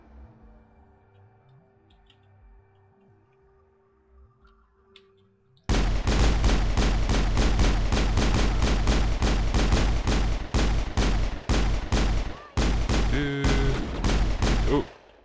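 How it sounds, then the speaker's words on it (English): Sustained gunfire in the Mass Effect video game, a quiet hum giving way to loud, rapid bursts of automatic shots that crack in fast rhythmic volleys, briefly pausing before resuming close and intense. "Oh, getting shot at."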